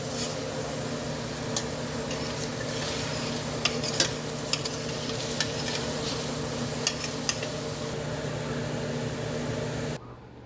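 Food frying in olive oil in a pan while being stirred, a steady broadband sizzle lasting about ten seconds with scattered light scraping clicks from the utensil, close by and continuous, no talking.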